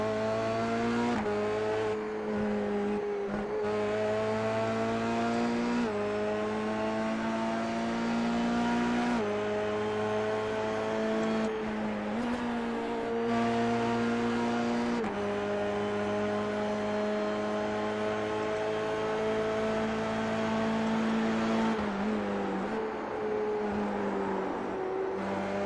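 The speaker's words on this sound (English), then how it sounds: "Mark throwing that car around into the corners" Formula car racing around Spa in a video game, with a steady, loud engine drone whose harmonics rise and fall through gear changes and corners. It runs continuously for the whole stretch.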